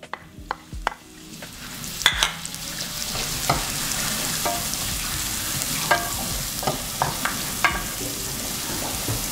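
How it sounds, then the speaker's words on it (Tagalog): Onion and garlic sautéing together in a pan for butter chicken, a steady sizzle broken by repeated scraping and clacking strokes of a spatula stirring them, close and moderately loud. "Dito na tayo magigisa ng onion and garlic."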